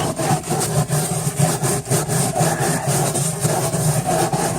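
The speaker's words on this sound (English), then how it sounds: "the wire brush, and this is why I use a stainless steel wire brush, will take all of the rotten wood out, and it will just leave the good wood" Stainless steel wire brush scraping rotten wood out of a wooden boat's hull, a loud, continuous, close-up rasping scrub with a steady back-and-forth rhythm and no voices.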